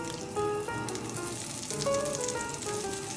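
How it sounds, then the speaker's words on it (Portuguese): Butter sizzles and crackles steadily in a frying pan while bread is fried for a Dutch-style wentelteefje (rabanada), a close, continuous hiss with some faint tonal sounds in the background. "nós vamos lá agora para a cozinha fritar ele na manteiga"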